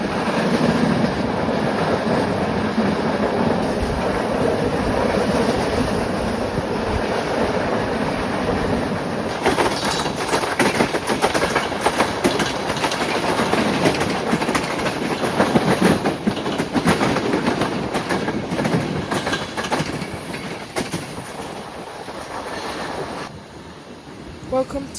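Romania's Intercity Ister passenger train rolling along the rails, a loud continuous rumble with rhythmic clattering of wheels over track joints, heard from inside the carriage throughout.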